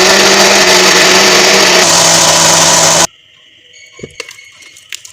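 An electric blender grinds garlic with oil into a paste, a loud steady whirring motor that cuts off abruptly about three seconds in and leaves faint clinks and rustles behind.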